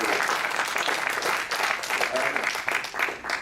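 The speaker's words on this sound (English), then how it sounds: "I think they deserve a great round of applause." Moderate applause from the audience at a post-fight boxing press conference, a steady wash of clapping lasting a few seconds, somewhat distant, with faint speech mixed in.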